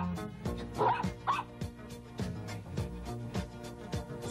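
A dog barks and whimpers in a few quick yips and whines over rhythmic background music with a steady beat, the dog's calls brief and sitting just above the music.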